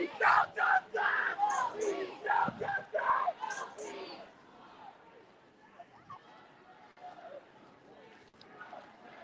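A crowd of George Floyd protesters near the Golden 1 Center in Sacramento, loud chanting voices in rhythmic bursts that fade to quieter outdoor murmur and scattered sounds.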